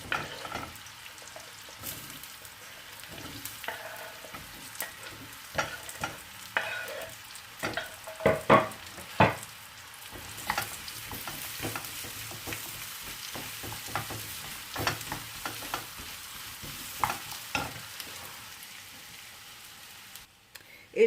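Apple pieces fry in melted butter in a pan for caramelized apple crêpes, a soft, steady sizzle broken by scattered stirring clicks and scrapes, fairly quiet and without talk.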